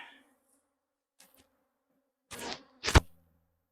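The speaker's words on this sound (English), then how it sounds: "Oh my goodness, I got bees everywhere." A couple of loud buzzing bursts pass close by, with faint buzzes and near silence between them.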